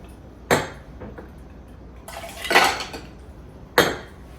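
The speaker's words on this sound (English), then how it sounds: "So I'm just going to dump out the glasses so they're nice and filled." Cocktail glasses for a Manhattan are emptied out, giving three separate clinking clatters of glass, close and distinct, with a short pause between each.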